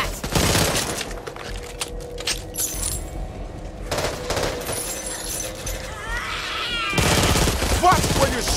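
Gunfire in the video game Back 4 Blood comes in bursts of rapid shots with game noise and effects in between, loud and close, and a voice can be heard faintly underneath.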